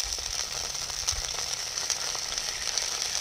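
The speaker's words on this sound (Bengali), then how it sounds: "এবারে এই মাছ ভাজার তেলে কালো জিরে ফোড়ন দেবো" Nigella seeds sizzle in hot fish-frying oil over a wood-fired village stove, a steady close crackling hiss that holds evenly throughout with small pops, no voices.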